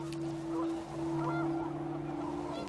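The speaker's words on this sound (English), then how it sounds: "The wind picked up, and panicked geese appeared and quickly went." Panicked geese honk in What Remains of Edith Finch, a steady, sustained horn-like tone that holds level under faint background rustle and wind.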